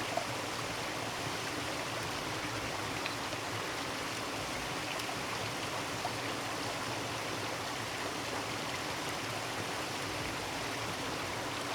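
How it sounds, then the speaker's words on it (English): A waterfall flows through a snowy landscape, heard as a soft, steady, distant rush of water that stays even and unbroken the whole time, with no voices. "and the waterfall in the background."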